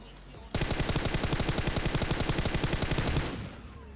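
Sustained automatic gunfire from enemy players in a mobile shooter game, a rapid dense burst of shots lasting about three seconds, loud and close, then cutting off.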